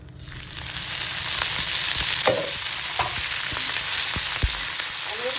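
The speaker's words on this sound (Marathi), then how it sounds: "आणि 1 मिनिट परतून घ्यायचं तेल घातल्यानंतर" Okra thecha stir-fried in freshly added oil in a hot pan gives a steady, dense sizzle, broken by a few sharper scraping knocks of the spatula against the pan.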